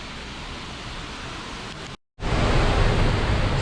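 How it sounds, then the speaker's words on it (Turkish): Water pours steadily near a cave at the Düden waterfall in Antalya as a constant broadband rush, cut by a brief silent gap and resuming louder and fuller afterward. "Sanırım tam şelalenin döküldüğü yerin arkasında da mağara var."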